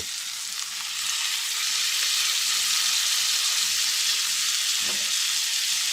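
Venison steaks sizzle steadily in a buttered pan, a dense, loud frying hiss that swells slightly after the first second and holds without pause, with no voices.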